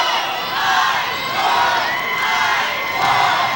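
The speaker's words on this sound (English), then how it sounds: "The Pinewood crowd is getting it going over there." A girls' high school basketball crowd cheers and shouts in a gym, with children's voices prominent among them. The roar rises and falls over a few seconds as the Pinewood side gets loud.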